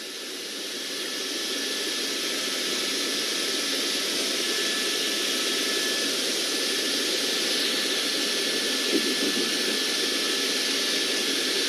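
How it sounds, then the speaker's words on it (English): Steady engine and rotor roar from a helicopter circling over a police car chase in Los Angeles, a broad continuous drone that swells slightly in the first seconds and then holds at a constant distant level, with no talking. "So the helicopter overhead is running out of gas."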